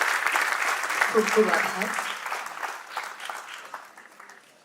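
An audience applauds after a speech at the Maharashtra Chamber centenary celebration and headquarters inauguration, steady clapping that gradually fades, while a voice briefly speaks over it.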